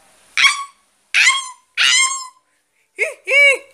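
A person imitates a small dog barking, giving five sharp yapping barks in quick succession with short pauses, loud and close, and no other sounds.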